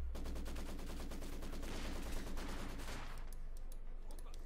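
Rapid, dense MD-34 machine gun fire from a Company of Heroes 2 battle, loud continuous bursts of gunfire with overlapping shots that thin out toward the end.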